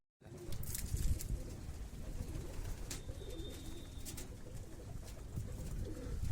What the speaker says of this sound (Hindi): देखो 20 साल पुराना कबूतर अपना, जीरा कबूतर